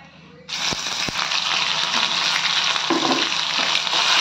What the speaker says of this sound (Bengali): গ্রিন চিলি বাটা একটু ভেজে নেব হালকা করে